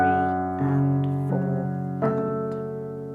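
A piano plays a short Canon in D rhythm excerpt, with four sustained chord strikes ringing and decaying, close and clear, without talk.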